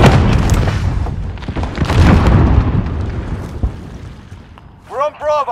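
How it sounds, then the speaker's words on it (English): A cruise missile launching and exploding in Call of Duty: Modern Warfare: a heavy rumbling blast that rolls and slowly fades, followed by a few sharper thuds and whooshes near the end. "Cruise missile. Go for launch."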